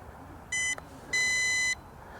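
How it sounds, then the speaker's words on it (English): Two electronic beeps from an MJX Bugs 19 drone, a short one followed by a longer sustained tone, high-pitched and clear over a quiet background. "we got a couple beeps"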